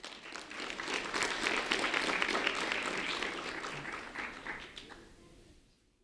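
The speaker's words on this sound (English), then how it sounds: "a round of applause for David Lee Mayhorn" Audience applause at a school awards event honoring an eighth-grade student, a dense wash of many hands clapping that swells, holds steady, then tapers off to quiet.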